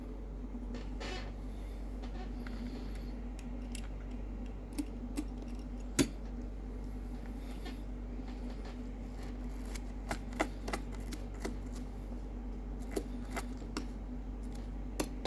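Small scissors snip hair tangled around the wheels of a TOMY Thomas & Friends toy train, producing faint, sparse metallic clicks and snips over a steady low hum.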